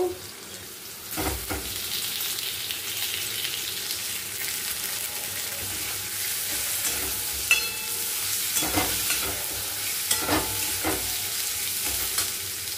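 Potatoes fry with masala in a pan, a constant bright sizzle with occasional stirring scrapes and clatters, close by and without talk.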